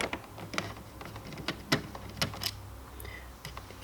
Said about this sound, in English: let's just remove the 2 screws